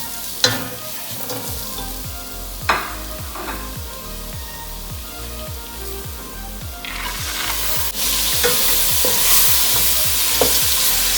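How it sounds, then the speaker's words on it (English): Sprouted red lentils and spices sauté in a hot pan for a masoor pulao, giving a steady close sizzle and fry broken by rhythmic spoon scrapes and stirring, with the frying hiss swelling louder toward the end. "Saute it really well."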